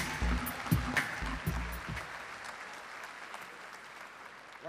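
Audience applause welcoming two guest performers onto a stage, a dense burst of clapping that swells at the start and then gradually thins and fades over several seconds.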